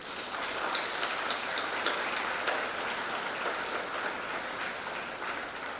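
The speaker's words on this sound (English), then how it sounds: "give all of them a big round of applause" A room full of people applauds graduates at a ceremony, with dense, sustained clapping that holds steady and fairly loud throughout, with no talk over it.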